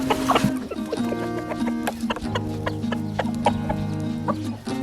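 Backyard homestead chickens cluck and squawk close by, a busy overlapping chorus of short calls and longer drawn-out notes with no talk.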